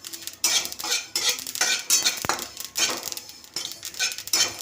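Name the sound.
stirring sesame seeds roasting in a pan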